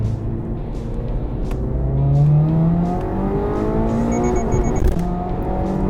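A Toyota GR86 fitted with an SA Hamamatsu sports ECU accelerates hard. Its engine note climbs in pitch, drops at the gear changes, then climbs again, loud and close throughout.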